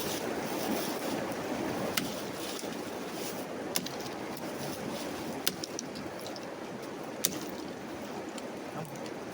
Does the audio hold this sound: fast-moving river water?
yes